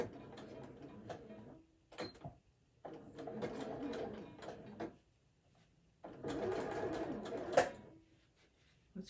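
A sewing machine runs in three short bursts, stitching and back tacking at the top of a fabric gift bag, a close rapid mechanical whir that stops and restarts, with quiet pauses between.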